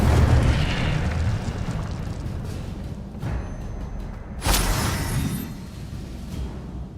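Incendio fire spell cast in Hogwarts Legacy, a rumbling whoosh of flame with a sharp bright burst partway through, loud and close amid ongoing combat noise.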